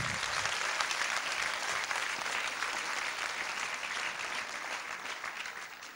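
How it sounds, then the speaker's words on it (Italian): Audience applause at a theatre evening, dense, steady clapping from a full crowd that holds at an even level throughout, no talking. "Un applauso."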